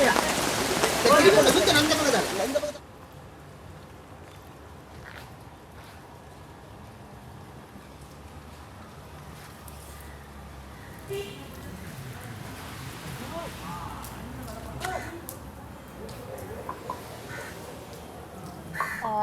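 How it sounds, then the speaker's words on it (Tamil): Steady rain patters on a surface during flooding in Jaffna, a heavy burst up close at first, then a softer continuous hiss with a few distant bird calls. "இந்த மழை"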